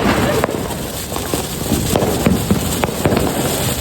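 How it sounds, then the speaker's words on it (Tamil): Rapid, irregular crackling pops from firecrackers bursting continuously during Diwali, loud and dense, with a few sharper cracks standing out from the steady barrage. "பட்டாசு வெடிக்கிறது தான்"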